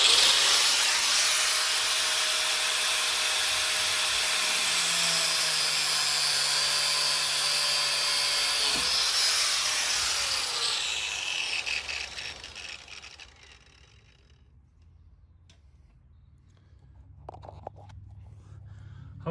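A power cutting tool slices through a car suspension strut in one long, loud, continuous grinding whine close by, gradually fading out toward the end, followed by a few quiet clanks and handling sounds.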